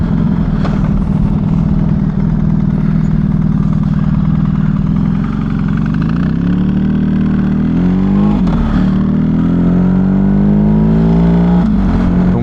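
A BMW GS motorcycle engine drones loudly and continuously while riding, its pitch rising and falling with throttle changes, with rushing wind noise underneath.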